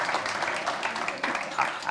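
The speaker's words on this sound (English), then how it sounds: "You can clap now." Audience applause at a township community address, a steady wash of clapping from a crowd lasting throughout, moderately loud with a few sharper swells near the end.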